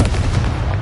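Confringo explosive spell in the Hogwarts Legacy video game, a brief loud, booming blast with a rumbling, noisy body and no speech.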